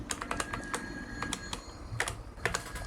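Typing on a computer keyboard at an old Compaq 486 PC, a run of quiet, irregular key clicks, some in quick pairs, over a low steady hum.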